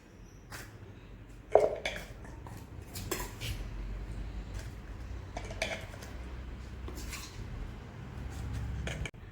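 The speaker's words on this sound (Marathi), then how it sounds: "आता हे आपण एका बरणीमध्ये भरून ठेवूया" Lemon-chilli pickle for fasting days is spooned into an airtight jar: soft intermittent clinks and scrapes of a spoon against the container, with a sharper knock near the start, over quiet room tone.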